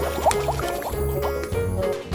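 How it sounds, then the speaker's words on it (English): Liquid soap pours and squishes onto a paper craft figure in short wet gurgling spurts, close and fairly quiet. "Let's use this soap to clean it up."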